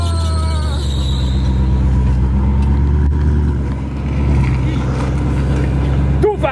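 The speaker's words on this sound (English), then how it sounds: "Let me try this obstacle in my beamer." A BMW car drives over an obstacle, its engine droning and rising with tonal whine and a brief squeal near the end, heard close under loud talking voices.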